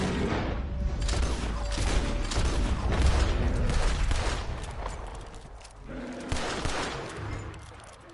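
Gunfire in the video game Red Dead Redemption 2: a continuous, busy barrage of shots, booms and mechanical clatter, fairly loud and sustained, with brief faint voices in the mix.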